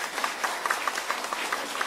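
Audience applause during a dharma talk at a Buddhist temple, a fairly thin, steady patter of clapping at moderate distance with no talk over it.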